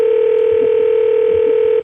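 A telephone dial tone plays after the phone is hung up: a steady, loud, unbroken hum that lasts under two seconds with nothing else heard.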